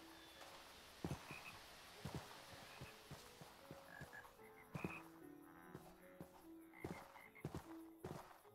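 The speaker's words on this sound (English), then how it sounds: "I like the frog noises." Frogs croak in a swamp, with repeated sharp croaks at irregular intervals and a few higher chirps over a quiet background, some calls close and some farther off.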